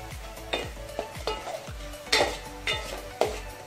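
A spatula stirs masala spices through hot oil in a pan for a Chettinad-style village fish curry. Rhythmic scraping strokes come about every half second over a soft sizzle, close and clear, with no voices.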